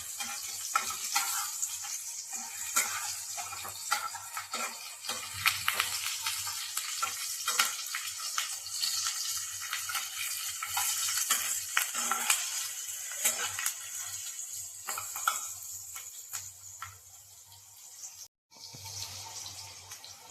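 Green chillies stir-frying in hot oil in a pan, a steady close sizzle with frequent scraping stir strokes running throughout, briefly cutting out near the end before resuming.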